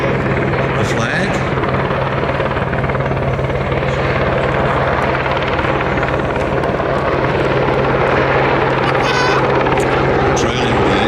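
Westland Sea King HAR3 helicopter XZ597 flying at the Midlands Air Festival, a loud continuous rotor thrum and turbine roar that holds steady throughout, with a public-address announcer talking over it.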